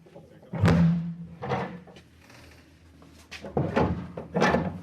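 A heavy door at a stairway beneath a lecture theatre, heard as a series of dull thuds and knocks in bursts with quieter shuffling between them, no talking.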